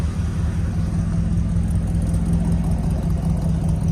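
A 1965 Chevrolet C10 pickup truck engine idling steadily, a loud, even low rumble held close throughout with no talk.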